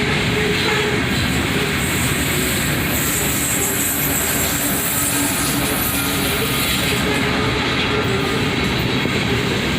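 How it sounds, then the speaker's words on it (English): A heavy loaded ore train hauled by an ES44ACH locomotive, with a distributed power unit, rolls past close by in a loud, steady roar of wheels and rumbling cars with faint clickety-clack and squeal. "I figured this loaded ore train would be too heavy for just a single locomotive"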